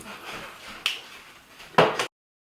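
A child sucking on a lollipop nearby, giving short wet smacking and clicking bursts, one sharp pop near the middle and a louder pair of smacks toward the end, over a soft background hiss. The sound then cuts to silence.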